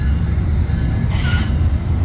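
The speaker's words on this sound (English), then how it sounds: "another video of an EXO train ride here on the Vaudreuil-Hudson line heading towards Lucien-L'Allier, downtown Montreal" Exo commuter train on the Vaudreuil-Hudson line toward Lucien-L'Allier in downtown Montreal, steady loud low rumble of the ride with a sharp high wheel squeal rising briefly midway, no talking.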